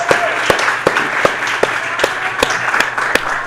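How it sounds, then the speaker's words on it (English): Applause at a literature department graduation celebration comes as a scattering of sharp, separate claps at a steady pace, fairly close over a quiet room rather than a dense crowd ovation. "A round of applause for Calvin and Morgan."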